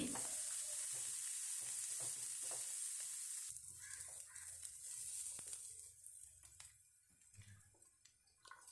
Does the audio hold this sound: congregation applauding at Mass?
no